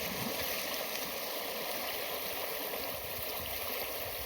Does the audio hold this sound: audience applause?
no